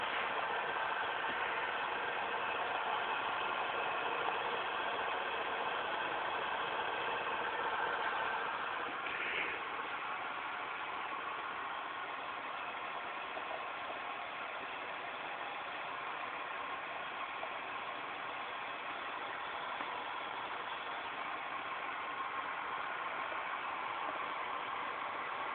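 A homemade Newman motor spins with a steady, even whirring hum that stays constant and moderately quiet for the whole stretch, with no talking.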